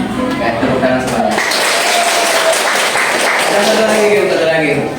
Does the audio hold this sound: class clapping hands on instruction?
yes